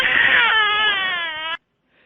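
An infant gives one sustained, loud wailing cry lasting about a second and a half. It is close and clear, then stops abruptly into silence.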